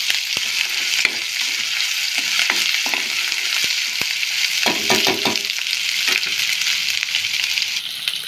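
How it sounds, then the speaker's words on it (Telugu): Onion pieces frying in hot oil for a mutton gravy curry, a loud, dense, steady hiss with intermittent clicks of a stirring utensil, close up and with no talking. "ఉల్లిపాయ ముక్కలు వేసాను."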